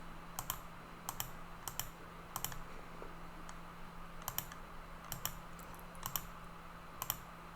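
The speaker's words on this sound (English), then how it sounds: "once you start clicking, left clicking with your mouse, you can trace around the perimeter of the field" Computer mouse left clicks come in quick pairs and singles at an irregular pace, close and quiet over a faint steady hum while a field boundary is traced in Google Earth Pro.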